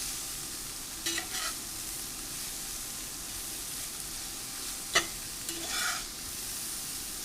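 Stir fry sizzling steadily in a hot pan after being flipped, a continuous close frying hiss with a few brief louder bursts of spatter and scraping, no voices.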